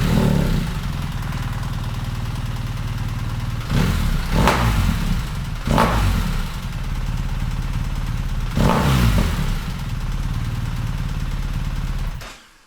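A BMW R1300GS motorcycle fitted with an Akrapovic full exhaust idles loudly inside a garage, rising in three sharp throttle blips that snap back to a rumbling idle before cutting off abruptly at the end.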